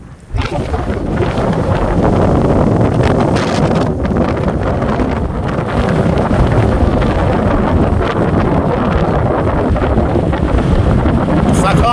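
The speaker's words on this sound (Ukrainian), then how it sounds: "Все знімає, все летить, вітер скажений." Strong wind of about 15 to 20 metres per second roars continuously over a farm field and buffets the microphone, a loud, rough rush of gusts with no letup.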